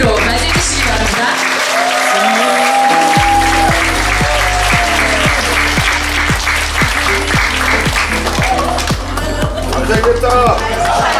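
Warm, sustained applause from an audience welcoming a guest lecturer at a Korean company presentation event, steady and dense throughout with a faint murmur of voices underneath.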